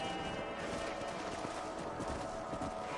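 A horse in Red Dead Redemption 2 on PS5 gallops with steady, close clip-clop hoofbeats under a dense, loud layer of continuous game sound.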